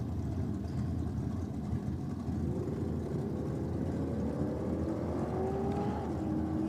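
A Holden Torana drag car launches solo down the strip at a state championship meet, its engine note a sustained loud roar that climbs steadily in pitch as it pulls away, with no talk over it.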